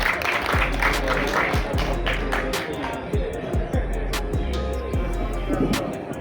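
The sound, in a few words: audience applause at a ceremony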